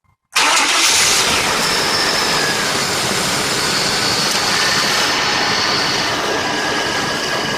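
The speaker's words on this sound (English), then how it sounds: "Now I'll start the car and engage see if the compressor engages." A GMC / Chevy C1500 pickup truck engine cranks and fires up right after a moment of silence, then holds a loud, steady idle close by with the hood open, no voices.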